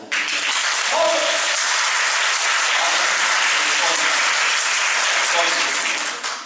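Audience applause at a comedian's stand-up show, a loud sustained roar of many hands clapping at an even level, with a few brief voices and whoops in it, dropping off only at the very end.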